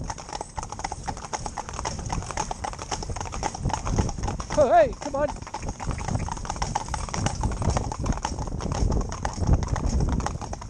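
Hooves clip-clop in a steady rapid rhythm as a four-in-hand team of horses trots, with a brief whinny midway and a man calling out encouragement over them.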